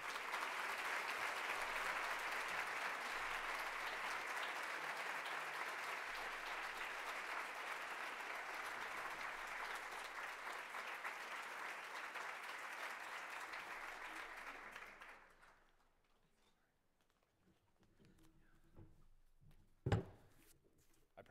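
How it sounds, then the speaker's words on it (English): Applause from a conference audience for an award recipient at a plenary session, a long, steady, full-room ovation that fades out after about fifteen seconds into quiet room tone with a single sharp knock near the end. "please welcome him with a big round of applause"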